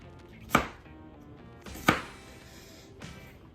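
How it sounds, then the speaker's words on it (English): Knife chopping through sausage on a cutting board, three sharp separate strikes spaced about a second apart, close and clear with no talking. "I'm just gonna cut them all the way down, all the way through."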